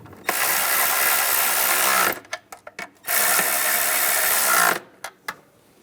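Nuts on a lower intake manifold bracket of a 2011-2018 RAM 1500 3.6L V6 are run down with a power tool. Two long, loud whirring bursts, each followed by a few short blips, with brief pauses between.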